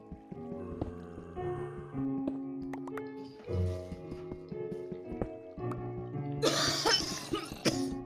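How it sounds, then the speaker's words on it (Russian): Coughing from a player during a Minecraft session, heard as a few short coughs over steady game music and sound effects, moderately close and not very loud. "Ну ладно, это просто кашлю."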